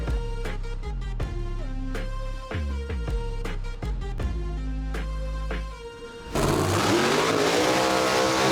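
No-prep drag race cars at Alabama International Dragway rolling up to the line, loud choppy engine blips and revs in short bursts, then a sudden roaring full-throttle launch near the end.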